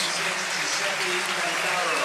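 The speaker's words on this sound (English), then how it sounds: "the player that's coming off, and Di Canio, it's a round of applause" Football stadium crowd at an Arsenal versus AC Milan legends match applauding a substituted player coming off the pitch, a broad, distant roar of clapping under a commentator's voice.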